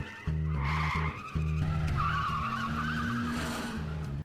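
Race cars skidding in an Initial D mountain battle between an AE86 and an FC, with loud, close tire squeal over a steady engine drone that cuts out briefly, then a rising, wavering screech.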